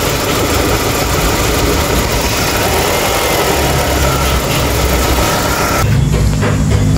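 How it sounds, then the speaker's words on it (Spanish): A Renault engine with a shorted cylinder 1 injector circuit idles roughly and unsteadily, a loud close continuous rumble with uneven vibration, no voices. "Como vimos, igual un motor completamente inestable."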